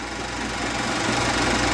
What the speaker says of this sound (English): It shows the automatic change in weight transferred as the tractor moves down the field.